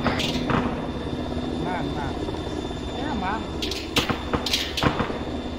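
A military helicopter in the Arma 3 video game thrums loudly and steadily throughout, with sharp gunfire-like cracks near the end and voices talking over it.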